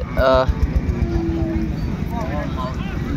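Sahiwal cows and calves at the Raniganj cattle market, with a harmonic lowing moo near the start and fainter calls later amid busy crowd chatter and background voices.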